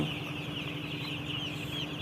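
Many broiler chickens cluck and chirp softly together in a constant low chatter, like a crowded poultry shed heard from nearby.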